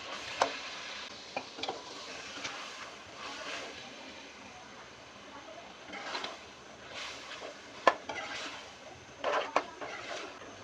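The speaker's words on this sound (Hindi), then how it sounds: "चिकन शामिल करने के बाद इसे 5 से 7 मिनट के लिए फ्राई कर लेंगे।" Marinated chicken added to tomato paste and frying in a pan, giving a faint, low sizzle with scattered soft clicks and scrapes of stirring, quiet and somewhat distant, with no speech.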